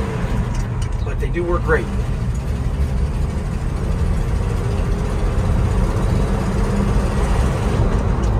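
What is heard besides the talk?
1968 Ford F-250 Highboy 4x4 truck engine while driving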